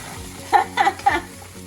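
Frozen vegetables dropped into a hot frying pan for vegan fried rice, giving three quick bursts of sizzling over a quiet background.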